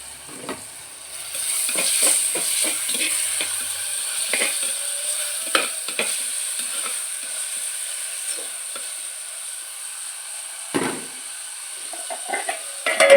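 Tomatoes sauté in a pan for a small-onion fish curry, giving a steady close sizzle and hiss, broken by irregular clinks and scrapes of a spoon stirring against the pan.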